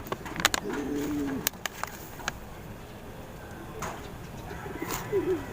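Pigeons coo softly in low throaty calls in a loft, one early and another near the end, amid sharp clicks and taps of nearby birds.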